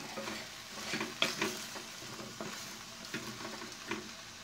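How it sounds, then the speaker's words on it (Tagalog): A spoon stirs pinakbet vegetables and ground pork in a hot pan, giving a soft, continuous sizzle with scraping strokes and a few louder knocks against the pan, up close with no talking. "Lagyan ko na rin ang mga gulay. Ating halu-haluin."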